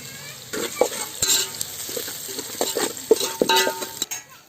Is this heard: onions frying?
yes